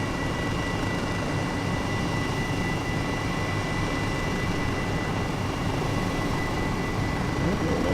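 An H135 helicopter in Microsoft Flight Simulator drones steadily in flight, a constant broadband engine and rotor hum holding at an even level throughout, with no one talking over it.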